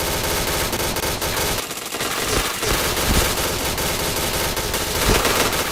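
Rapid automatic gunfire in the shooter game PUBG, dense bursts of shots rattling almost without pause, loud and close, with no one talking.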